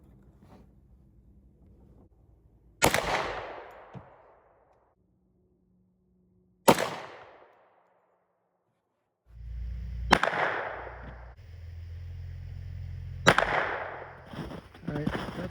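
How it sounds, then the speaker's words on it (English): A 10mm Sig P320 XTEN or SA XDm pistol fires at a paper target with steel targets behind it. There are four sharp, loud gunshots spaced several seconds apart, each followed by a decaying ring, and a low rumble runs between the later shots. "I'm shooting at a paper target, and behind it are my steel targets"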